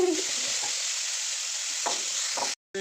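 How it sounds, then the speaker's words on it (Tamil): Onions sautéing in a pan for a coconut-based mutton curry give a steady, close sizzle with a few soft stirring scrapes, ending abruptly in silence, no talking. "வெங்காயம் வதங்கிடுச்சு"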